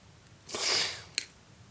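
Drip irrigation tubing being cut off, heard as a single soft squishy snip lasting about half a second, then a brief sharp click, close and quiet with no talking.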